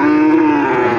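Cattle at a livestock market for feeder cows give a single loud, sustained moo that fills the whole second, steady and close with no talk.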